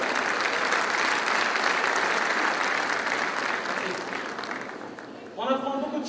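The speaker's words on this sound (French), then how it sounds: "Je vous demande de l'applaudir" Warm applause from an audience at a Forever company recognition event, steady and full before fading, then a voice resumes speaking over the last moments.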